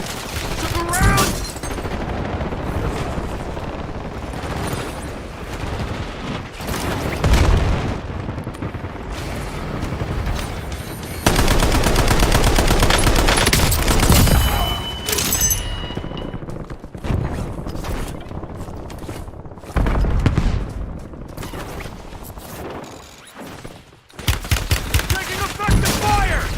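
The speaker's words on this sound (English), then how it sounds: "Taking effective fire!" Dense gunfire in the video game Warzone, with rapid automatic bursts and sharp shots overlapping with booms and clatter, loud and close, while game voices call out now and then.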